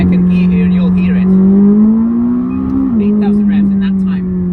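A McLaren 600LT V8 engine revs up in second gear from about 3,500 to 8,000 rpm, a loud steady rising drone that dips briefly near the top before climbing on. It sounds close and continuous, with light voices faintly audible in the background.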